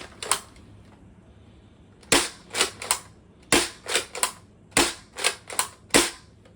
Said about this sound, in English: I'm gonna shoot off 4 shots without the barrel